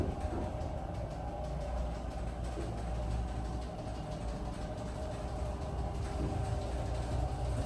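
A Schindler 330A hydraulic elevator cab descending inside a Nordstrom store at a mall, heard as a steady low rumbling hum with faint mechanical whir, continuous and unbroken throughout, with no voices.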